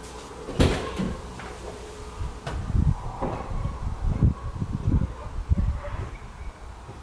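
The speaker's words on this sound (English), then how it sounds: "go ahead and shut the tailgate" The tailgate of a Jeep Wrangler TJ is swung and shut, giving a handful of close, dull thumps and rattles with a louder knock early on. No one speaks.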